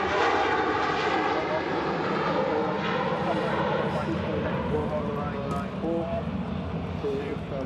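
A Turkish Airlines airliner rolls down the runway on its takeoff run, its jet engines roaring loud and steady with rising tonal whine, while a voice talks over it.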